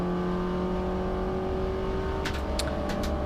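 A Mini Cooper S race car engine drones steadily in-car at Silverstone during a race, a loud sustained tone with brief higher bursts near the end as it shifts or revs.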